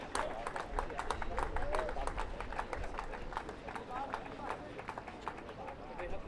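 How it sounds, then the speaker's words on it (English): Spectators at a T20 cup final cricket match give sustained applause, a dense patter of many hands clapping at moderate distance, heard beneath a commentator's talk. "Good applause there from a healthy gathering of spectators, all the players involved as well"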